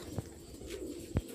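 Pigeon coos from a breeder's young birds in a loft: two short low coos, one at the start and a stronger one near the end, over a faint steady background.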